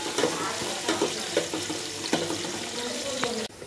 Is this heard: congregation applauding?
no